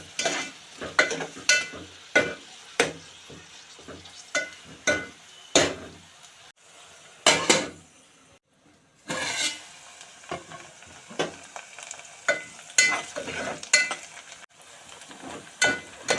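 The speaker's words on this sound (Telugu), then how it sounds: "నూనె వేడయ్యాక 2 ఉల్లిపాయలు వేసి గోల్డెన్ బ్రౌన్ రంగు వచ్చే వరకు వేయించుకోవాలి" Two onions frying in hot oil for spicy chicken fry, a low continuous sizzle broken by frequent clattering scrapes of a spatula stirring in the pan, with a brief quiet pause midway.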